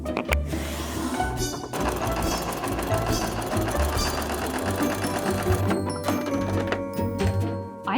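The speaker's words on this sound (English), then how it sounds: "I can finally gather fabrics on the machine." A sewing machine gathers fabric for a pair of 1960s-style vintage pyjamas. The motor and needle run continuously with a dense, rattling mechanical hum, loud and close throughout.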